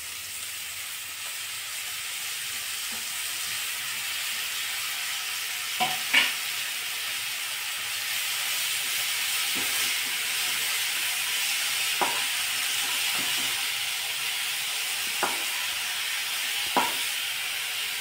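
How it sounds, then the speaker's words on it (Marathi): Fenugreek leaves stir-fried in a pan with red chilli powder and chopped coriander for Maharashtrian methi pithla, a steady broad sizzle with occasional sharp spatula scrapes and clinks, close and continuous, no talking. "मेथीची भाजी व्यवस्थित परतून घ्यायची"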